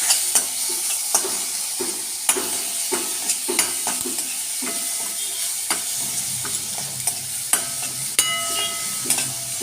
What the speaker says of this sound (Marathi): छान हलवून घेते।